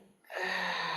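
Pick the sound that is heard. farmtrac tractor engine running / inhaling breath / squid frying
inhaling breath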